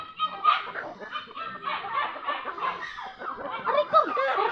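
Chickens cluck and squawk close by in a busy, agitated flurry, with brief human sounds mixed in.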